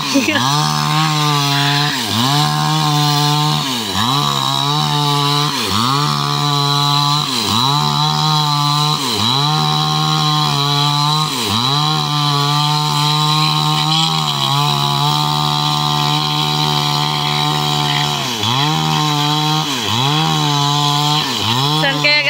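Power saw cutting wood, a loud continuous engine whine that rises and falls in a regular rhythm as it bites into the timber, steady throughout.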